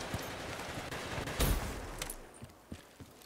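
Gunfire in the shooter game Black Ops 3, with a burst of shots around the middle and scattered quieter reports after, fairly faint and without talk.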